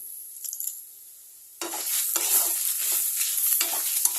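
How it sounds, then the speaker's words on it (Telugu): Dried red chilies added to a hot pan, first a brief quiet stretch, then a sudden loud burst of frying sizzle with stirring scrapes continuing close up, no talking. "ఫ్రై అయిన తర్వాత ఇందులో ఎండుమిర్చి వేసుకోవాలి."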